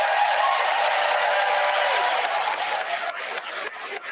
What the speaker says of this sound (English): The crowd is clapping